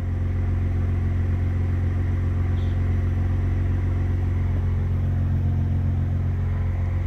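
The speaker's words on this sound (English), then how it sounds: "while this car is idling here with the AC on, it sounds so good" A Saab 9-3 sits idling with its air conditioning running, a steady low engine rumble with faint mechanical clatter that holds level and unbroken throughout, close by and without any talk.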